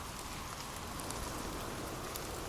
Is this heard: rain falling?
yes